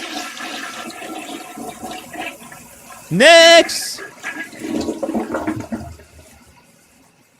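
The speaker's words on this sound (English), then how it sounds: "Don't get startled when you hear the toilet flushing." A toilet flushes in a courtroom during a court hearing, a loud rushing whoosh lasting under a second, set amid quiet room tone and murmuring voices, with a person speaking briefly.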